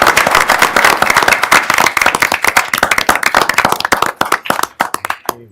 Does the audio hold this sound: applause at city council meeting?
yes